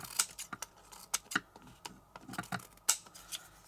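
Scissors snip through card paper during card making in a series of short, crisp cuts with irregular pauses, close and fairly quiet, with no voices.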